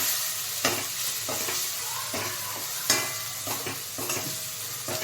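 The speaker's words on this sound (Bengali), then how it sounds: "মশলাটা আস্তে আস্তে ভেজে নেব।" Ground cumin and coriander masala slowly frying in a pan for chana curry, a continuous close sizzle with regular stirring scrapes, without talk.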